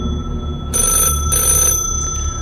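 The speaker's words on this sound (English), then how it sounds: "it's sort of an old-fashioned ring too. It's not like your more modern phones. It has that kind of ring sound to it." An old-fashioned telephone bell rings in two bursts of about a second each, separated by a short pause, loud and close, with a faint electrical hum running underneath and no talking.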